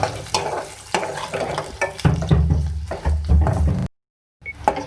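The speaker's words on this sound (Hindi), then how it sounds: "सबसे पहले मैं ऑयल में 2 मीडियम साइज़ के प्याज ऐड करूँगी।" Two medium onions frying in oil, with a busy sizzle and repeated scraping stirs from a spatula, heavier low rumbling toward the middle, then a brief complete dropout before the sizzle resumes.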